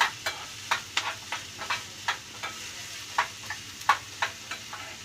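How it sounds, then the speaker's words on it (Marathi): Ginger-garlic paste and masala frying in a pan, a soft continuous sizzle broken by regular sharp scraping taps of a spoon stirring, close and without voices. "मसाला चांगला भाजून घ्यायचा."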